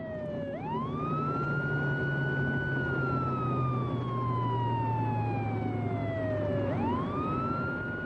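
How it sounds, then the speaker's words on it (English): A police siren wailing loud and steady, rising and then slowly falling in a long sweep before climbing again, over a low engine rumble. "even when they turn the lights and sirens on"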